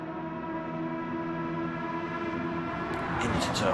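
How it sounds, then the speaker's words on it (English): Bullet train rushing past on the Tokyo track of a racing video game, a sustained tonal rumble with layered harmonics under steady engine noise, swelling louder toward the end. "As we just catch the bullet train going through."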